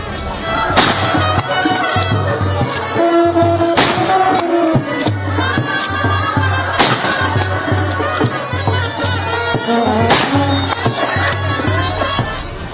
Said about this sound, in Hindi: शव यात्रा में फायरिंग कर जश्न मना रहा है